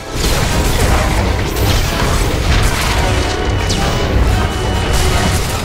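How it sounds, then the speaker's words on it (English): In the Star Wars: The Old Republic video game, a droid's cannon swing smashes into a Juggernaut, heard as a loud dense crash and boom amid continuous battle noise and mechanical clatter, with no voices. "Another swing from the Annihilation droid's cannon sends the Juggernaut flying."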